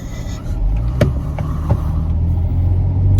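Steady low road rumble from inside a moving truck, close and continuous, with a few faint clicks and rattles over the drone.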